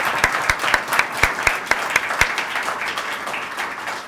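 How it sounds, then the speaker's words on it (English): An audience at a chamber of commerce event applauds, a steady roar of many hands clapping with a few sharp, close claps ringing out rhythmically in the first half before settling into a dense wash. "So can we get a round of applause for Karen?"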